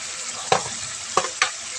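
Chicken karahi frying in a pan hisses steadily, broken by three sharp scraping stirs of a utensil close by.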